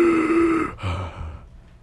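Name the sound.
narrator imitating a monster's panting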